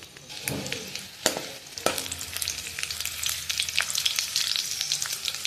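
Chili and garlic sizzle and fry in hot oil for a dal tadka, a steady crackling hiss with a few sharp pops and stirring knocks near the start, close and continuous.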